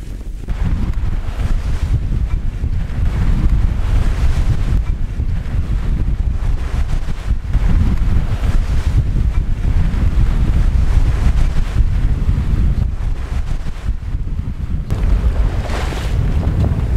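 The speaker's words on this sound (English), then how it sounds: "But the wind's still shifting." Strong wind at sea roars and buffets the microphone aboard a small sailing boat, a constant heavy rushing with faint water movement underneath, lasting throughout without speech.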